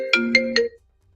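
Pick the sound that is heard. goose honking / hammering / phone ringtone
phone ringtone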